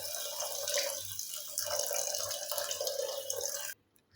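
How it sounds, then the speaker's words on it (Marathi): Hot water is poured into a pan of cowpea curry with potatoes, a steady close splashing stream lasting several seconds before cutting off abruptly. "आता 1 वाटी पाणी होईल एवढं पाणी ॲड करून घ्यायचं आहे"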